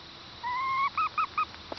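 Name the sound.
young farm bird making baby noises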